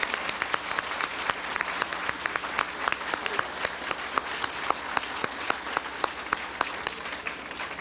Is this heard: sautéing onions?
no